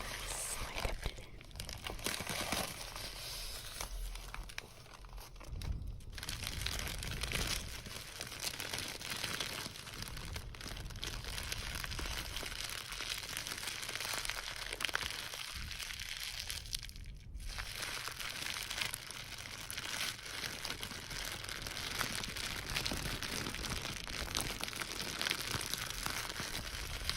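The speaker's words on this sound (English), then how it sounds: "You also get to watch me struggle to open these packs, but I thought the crinkle sounds were nice" Plastic paint packs crinkling and crunching continuously as someone struggles to tear them open, close and steady for nearly half a minute with no talking.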